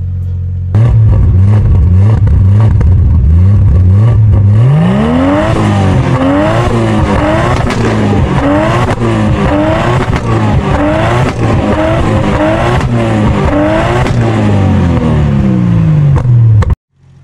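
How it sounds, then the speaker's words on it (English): A Nissan Skyline R34 engine idles roughly, then revs hard again and again, the exhaust note rising and falling in loud repeated bursts before cutting off. "first I'll give you an exhaust note and then I'll give you the front end."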